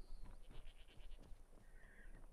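Goats bleat in Skyrim Special Edition, short wavering calls over a soft background, a few cries in a row followed by a higher bleat, fairly quiet overall.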